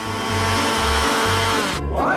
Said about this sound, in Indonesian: Aku akan melakukannya dengan cepat menggunakan mixer tangan ini.